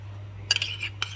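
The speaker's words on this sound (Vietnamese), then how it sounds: "Cho men vào hết thì mình dùng một cái muỗng nè. Mình trộn lại." A metal spoon clinks against a basin while yeast is mixed into batter for coconut-water steamed rice cake, a few short, close scraping taps over a steady low hum.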